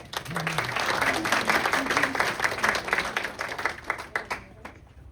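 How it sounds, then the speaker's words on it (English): Audience applause welcoming a speaker at a talk on antique and heirloom roses, a steady wash of clapping that fills the room for several seconds and fades at the end, with a voice speaking briefly over it. "Let's give a big round of applause."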